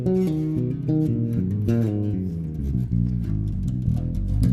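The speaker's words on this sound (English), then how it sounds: "Bridge pickup sounds like this." A bass guitar on its bridge pickup plays a run of clear melodic notes, loud and close with a bright, punchy low-end attack and no talking.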